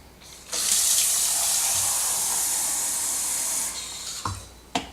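Water runs steadily from a tap into a container for about three seconds, then stops, followed by a couple of small clunks.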